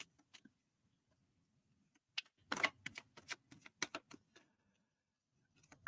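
A deck of oracle cards shuffled by hand gives off quiet, quick papery flicks and taps. These come in a dense cluster mid-way, with a few isolated ticks before and after, and no talking.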